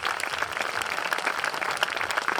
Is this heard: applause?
yes